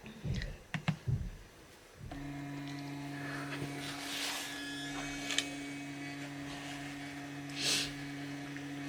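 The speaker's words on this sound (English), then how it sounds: "I might get the printer out now" A home printer runs a test page with a steady mechanical hum and tonal whine lasting several seconds, preceded by a few clunks and clicks as it starts up, with occasional higher whirring passes of the print head nearby.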